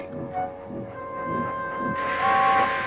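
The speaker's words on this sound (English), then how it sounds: "He backed down onto his train, hissing mournfully." Steam locomotive tender engine hissing as it backs down onto its train, a steady hiss rising sharply louder in the final second over a faint background rumble.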